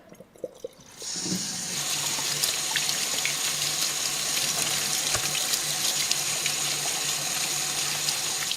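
Tap water runs steadily over tripe being rinsed for Mexican menudo. A faint clatter comes first, then the water gushes on loud and close and keeps a constant hiss to the end, with no talking.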